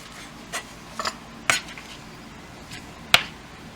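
Pork being cut into pieces on a kitchen board, a handful of separate knife chops and scrapes spaced irregularly, fairly close and quiet, with no voices.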